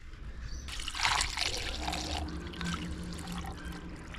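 Coolant is poured into an excavator, making a steady trickling, gurgling flow of liquid at close range with no talking.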